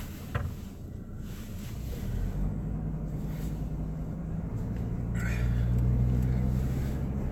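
A car pulls away, its engine hum rising steadily from low and rumbling to a louder, sustained drone with wind noise over the microphone.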